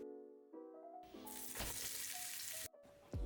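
Food sizzling in a 4-liter deep skillet for a Salisbury steak one-pot meal, a bright hissing fry that swells up loudly, cuts off abruptly, then returns with a clatter, over a faint tonal background.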